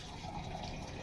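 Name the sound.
water being poured into a glass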